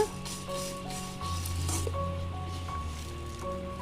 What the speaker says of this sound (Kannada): ಒನ್ ಟೇಬಲ್ ಸ್ಪೂನ್ ಆಗುವಷ್ಟು ಕೊತ್ತಂಬರಿ ಬೀಜವನ್ನು ಹಾಕ್ಕೊಳ್ತಾ ಇದ್ದೀನಿ ಅದನ್ನು ಸ್ವಲ್ಪ ಡ್ರೈ ರೋಸ್ಟ್ ಮಾಡ್ಕೊಳ್ಳೋಣ